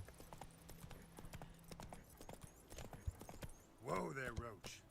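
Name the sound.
horse Roach's hooves clip-clopping in The Witcher III video game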